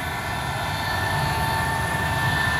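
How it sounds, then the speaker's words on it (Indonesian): Scoot Tiger Air Airbus A320 jet beginning its takeoff roll on a 2650-metre runway, a steady loud engine roar and whine heard from a distance, with no talk. "Scoot Tiger Air sudah mulai bergerak"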